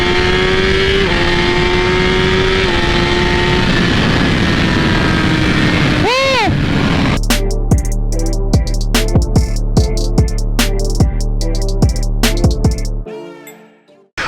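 A 2017 Suzuki GSX-R1000 sport bike runs loud and close, a steady engine drone with a sweeping pass-by, then rapid revving bursts with sharp rhythmic pulses before cutting off.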